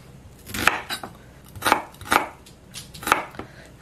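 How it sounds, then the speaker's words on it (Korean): A small onion being finely minced with a knife on a cutting board, crisp sharp chops falling in loose clusters of two or three, close and clear with no talking. "자, 양파 좀 다져주는데요."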